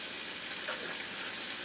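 Butter and cooking oil sizzle in a skillet, a steady soft hiss running the whole time without pause, heard up close with no one talking.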